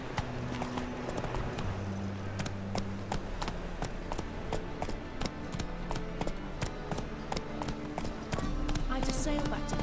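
Roach, Geralt's horse in The Witcher 3, gallops in rhythmic clip-clop hoofbeats at a steady pace, set against continuous background music and game ambience.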